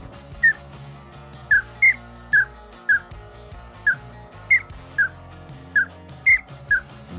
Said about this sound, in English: blow it really hard, that roller is going to really come into play like a whistle.